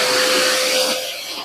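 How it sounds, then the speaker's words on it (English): Vacuum cleaner sucking dog hair out of a car interior, a loud close steady whine that eases slightly toward the end, with no talking. "Let's vacuum it quick."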